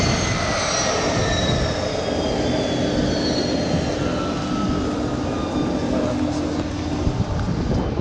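A steady, loud engine drone and rushing air fill the cabin of a small passenger plane in flight to the Mekong Delta, unbroken for the whole stretch.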